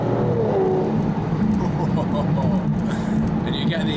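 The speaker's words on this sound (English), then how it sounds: "I'm just going to squeeze my foot on the throttle and let it open up a bit." An Aston Martin DBS engine revs up as the throttle opens, a deep, rising growl heard from inside the car and mixed with some road and cabin noise.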